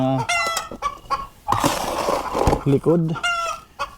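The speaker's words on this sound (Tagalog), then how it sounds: "pagpasensyahan nyo na mga paps yung maingay na manok" Chicken clucking and squawking repeatedly, close by, with a short burst of noisy flapping in the middle and a brief spoken word underneath.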